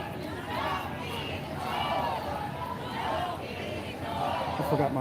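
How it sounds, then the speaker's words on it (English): Crowd at an anti-Trump "No Trump Emergency" rally in Florida, a continuous loud wash of shouting and chanting voices with rhythmic swells, close and steady throughout. "Lots of shouting."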